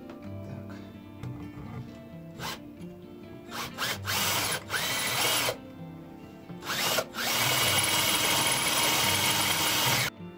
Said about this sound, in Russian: Без какого-нибудь шуруповерта тоже не обойдешься, мощного или дрели.